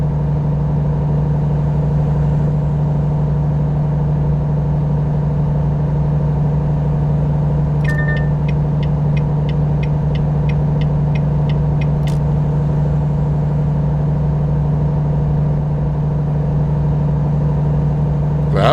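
Steady low drone of a Volvo truck engine in American Truck Simulator, constant and loud throughout, with a brief series of rapid electronic proximity-warning beeps partway through.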